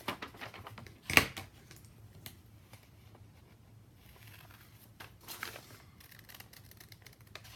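Scissors cut through the front piece of a small cloth camisole for a Dollar Tree doll, a sharp snip near the start followed by faint, scattered clicks and rustles of fabric in a quiet room.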